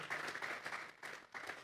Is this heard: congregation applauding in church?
yes